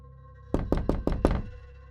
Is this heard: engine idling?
no